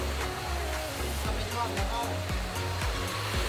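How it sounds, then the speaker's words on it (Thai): Steady rushing roar of a waterfall at a resort in Mueang Khong, Chiang Mai, a dense unbroken wash of falling water close by, with faint voices underneath. "มีน้ำตก"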